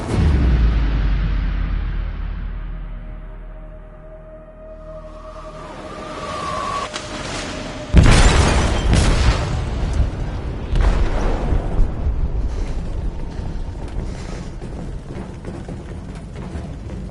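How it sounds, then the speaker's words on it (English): An explosive detonates in a ship's hold in Detroit: Become Human: a deep, loud boom hits partway through, then rumbling debris and continued crashing and roaring that fill the rest of the scene. "They detonated an explosive in the hold."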